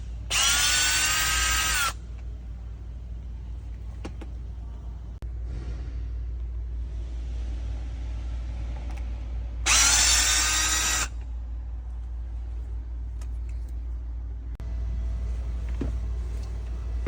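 A power tool drives out screws behind the MBUX trim of a Mercedes, two short loud whirring bursts separated by quiet stretches of low hum and faint clicks.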